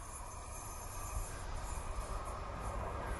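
A local commuter train on a line between Horwich and Bolton approaches and rolls past, a low, steady rumble of wheels on track from some distance, faint and continuous with no talk.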